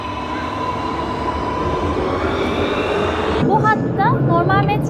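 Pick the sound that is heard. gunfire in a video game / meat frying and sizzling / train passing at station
train passing at station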